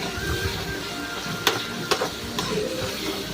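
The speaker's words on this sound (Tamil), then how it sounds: "மஞ்சள்தூள் போட்டு நல்லா வதக்கணும்" Drumstick (moringa) curry base with turmeric powder sautéing in a hot pan, a steady close sizzle with a few sharp spoon clinks against the pan.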